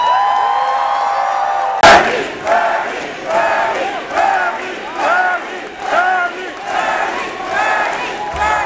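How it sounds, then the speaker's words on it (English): A raucous crowd at a Bernie Sanders political rally in Massachusetts roars and chants in rhythmic waves after a sudden burst, loud and close, with repeated surging shouts. "This is a raucous crowd."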